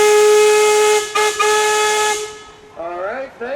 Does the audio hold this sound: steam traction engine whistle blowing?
yes